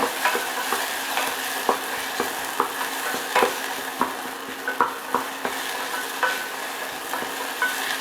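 Tomato paste stirred in a hot pan sizzles steadily while a spoon scrapes and taps the pan in frequent irregular strokes, close and clear with no talking.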